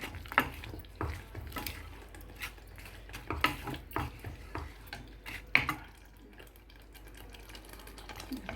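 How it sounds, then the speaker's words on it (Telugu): Water apple jam with jaggery being stirred in a pot over a low flame, a spoon scraping and clinking against the pot in irregular strokes, close and fairly quiet, with no talk. "లో ఫ్లేమ్లో పెట్టుకుని చక్కగా తిప్పుకోండి"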